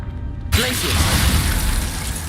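A Glacius ice spell is cast in the video game Hogwarts Legacy: after a moment of near silence, a sudden loud crackling, icy burst erupts and holds steady as a dense rush, with a brief voice at its start.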